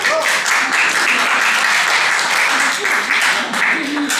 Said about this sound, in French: Voilà, vous pouvez vous applaudir.